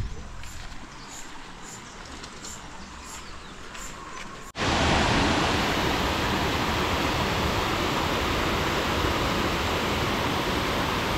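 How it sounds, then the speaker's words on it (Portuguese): Tall waterfall in Diamantina, Brazil: a steady, loud broadband roar of falling water that swells sharply after a few seconds as the source comes nearer, with faint rushing water and a few bird chirps before it. "É alta, bastante alta a cachoeira, ó."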